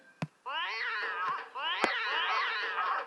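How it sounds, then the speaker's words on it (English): A cartoonish cat yowls and caterwauls, a sound effect from The Simpsons: Tapped Out mobile game tied to colored flickering-light decorations. The wavering meows come in two long bursts, each opened by a sharp click. "the same sound where a cat is going crazy in them"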